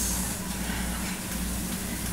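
Unsalted butter melts with brown sugar in a pan of pomegranate reduction. A soft, steady sizzling hiss runs quietly and evenly throughout.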